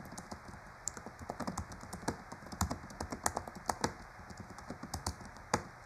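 A computer keyboard is typed on steadily by someone writing a novel, giving quick irregular clicks and taps close by at a soft, even level.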